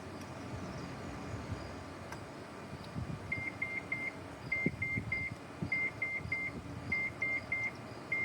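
Repeated high electronic beeps in quick groups of three from a Nissan Leaf electric car charger, cycling steadily over a low rumble of background noise.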